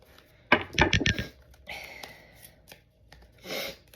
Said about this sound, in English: I like to shuffle this way because if I shuffle the fast way, I have too much control over the cards